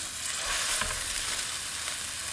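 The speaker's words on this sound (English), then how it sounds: "I'm gonna wait for this olive oil to start sizzling and then we'll get them in." Salisbury steak patties fry in olive oil in a skillet, giving a steady close hiss and crackle that stays even and unbroken with no voices.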